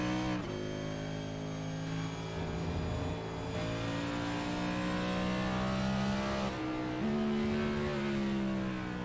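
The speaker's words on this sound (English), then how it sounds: "Down to 1st gear through turn number 1 for Dalton Fredericks." A race car in the Gulf Digital Services Cup Series at COTA runs loud and close, engine pitch rising and then dropping sharply twice as it shifts down through the turns, with no voices.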